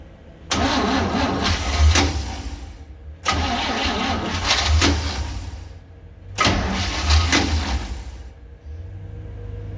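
Starter on a 1966 Chevy van cranks three times in separate bursts, each a few seconds of labored, rhythmic churning as the engine turns over slowly on a weak battery, with brief pauses between attempts and no talk.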